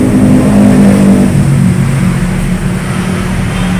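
A Kawasaki Ninja ZX-25R four-cylinder 250 with a Kevlar aftermarket exhaust revs loudly close by, a deep, rising and falling engine roar that is sustained throughout with no talk.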